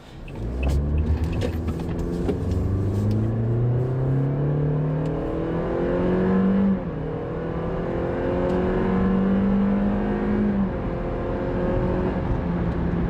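A 2016 Toyota Corolla engine with a CVT revs up repeatedly through simulated stepped gear changes, each rising drone dropping before climbing again, loud and close from inside the car.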